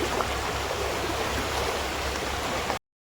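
Close, loud rushing of a fast monsoon-fed river in the Konkan, a steady unbroken roar of churning water that cuts off abruptly near the end.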